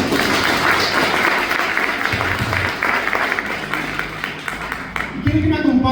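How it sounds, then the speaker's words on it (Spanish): A church congregation claps for the King after a prayer in a sermon, a full burst of applause that continues for several seconds, with voices and some speech over it toward the end. "Denle un aplauso al Rey, por favor."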